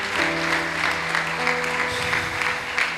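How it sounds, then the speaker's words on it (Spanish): A church congregation applauds with steady, moderately loud clapping while sustained musical tones hum underneath. "Vamos a brindar un fuerte aplauso también a estas damas"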